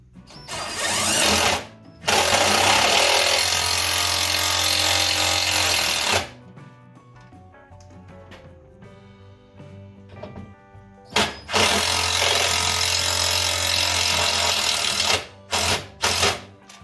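A loud power drill whines in two long bursts, drilling holes for self-tapping screws in a metal fire-grate tripod, then a few short ones, with a quieter stretch of clinking and knocking in between.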